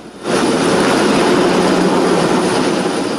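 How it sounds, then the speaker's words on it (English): A helicopter carrying heavy air conditioning equipment up to the top of a building in downtown Dayton, heard as a steady, loud engine and rotor roar that swells in quickly and then holds constant, with no talking. "a helicopter carries heavy air conditioning equipment to the top of a building in downtown Dayton"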